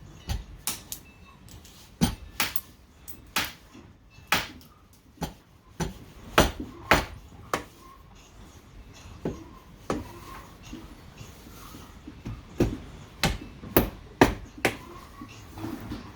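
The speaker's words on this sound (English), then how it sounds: "we'll grab a hammer and we'll tap away at that" Light hammer taps on a wooden bee hive observation window frame, a long series of sharp, close knocks spaced irregularly about a second apart, each a bright transient over a quiet room.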